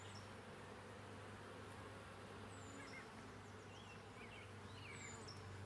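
Honey bees swarm around an open beehive, producing a continuous soft buzzing hum with individual bees whining past now and then, all fairly faint and without voices.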